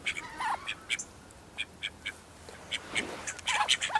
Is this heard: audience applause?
no